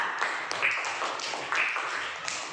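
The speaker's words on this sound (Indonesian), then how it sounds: "tepuk tangan untuk kelompok kedua" Classroom applause from fourth-grade pupils for the second group, a dense, moderately loud patter of small hands clapping steadily.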